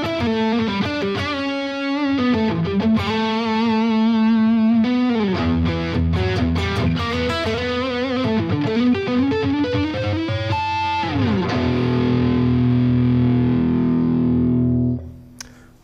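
Cort Sunset electric guitar on the neck pickup with overdrive, playing a loud, thick, bluesy lead line of bends and sustained notes that ends on a ringing note before cutting off, with no talking.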